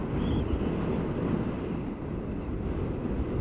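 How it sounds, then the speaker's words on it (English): Steady, loud wind rush buffets the microphone while riding a 2019 BMW C Evolution Plus electric scooter at speed with a low windscreen, a continuous roar with no other sounds. "Quite a bit of wind coming against the shoulders, and that might be because the windscreen is quite low."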